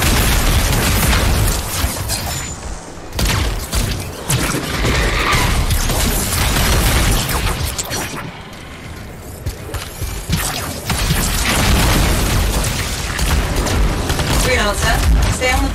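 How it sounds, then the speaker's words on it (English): Exploding bugs blow up in the video game Anthem, a dense barrage of loud booms and bursts over constant weapon fire and mechanical game noise, with brief lulls near three and nine seconds. "Those exploding bugs, they really do hurt."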